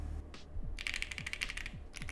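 Keystrokes on a mechanical keyboard with flex cuts, a quick run of close, crisp clicks and clacks in a fast irregular rhythm, alone with no voices.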